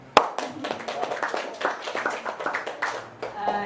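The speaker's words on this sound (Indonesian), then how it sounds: "Tepuk tangan dong" An audience at a motivational talk gives a brief round of clapping, loose and uneven hand claps spread across a few seconds at moderate loudness, with a voice briefly heard near the end.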